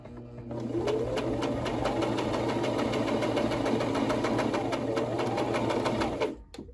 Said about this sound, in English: I'm just keeping sewing in that straight line, following the pins.